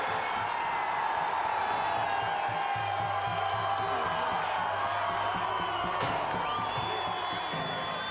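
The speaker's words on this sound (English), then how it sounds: "a vocal crowd is showing their approval of the local boy, Yago Dora" A vocal crowd cheers steadily for local surfer Yago Dora as the clock runs down in the men's final of the 2023 Vivo Rio Pro surf contest in Rio, a dense, continuous roar of voices and whoops throughout.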